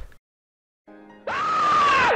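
A person lets out a long, loud, sustained scream for a dub recording, rising sharply after a brief low groan and a moment of silence, then holding steady until it cuts off.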